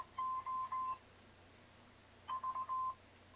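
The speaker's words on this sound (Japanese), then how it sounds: "Bluetooth の、ペアリング、はいはい、こんな感じでね、ペレッペレッペーってなんか言いますわ" Bluetooth speaker playing its pairing tone: two clear, close bursts of short electronic beeps in quick succession, separated by about a second of near silence.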